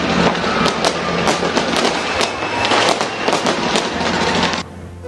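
New Year 2026 fireworks over Sydney, Australia, explode in a loud, dense barrage of overlapping bangs and crackles that stops abruptly near the end.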